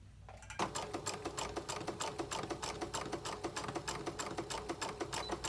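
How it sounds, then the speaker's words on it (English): After a brief quiet moment a sewing machine starts up close and stitches back and forth along a seam on Disney ear headband fabric, a fast, even mechanical rattle that runs steadily to the end. "we are going to want to back stitch and set that seam"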